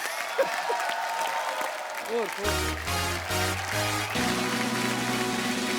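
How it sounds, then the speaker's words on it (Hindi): A studio audience on a Hindi television talk show breaks into applause after a brief spoken introduction, with music swelling under the clapping for the rest of the moment. "सिद्धू पाजी के लिए जोरदार तालियां।"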